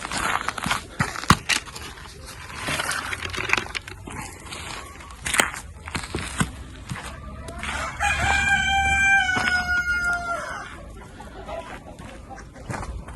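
Chickens cluck and shuffle nearby, and a rooster crows once loudly in the middle, with scattered bird calls around, in a farmyard with chickens and ducks in freezing weather.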